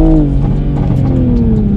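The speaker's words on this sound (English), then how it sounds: "I floor it in first gear" A Toyota A90 Supra launched hard in first gear with traction control in sport mode, its engine roaring loud and steady as the pitch slides slowly downward, with no voices over it.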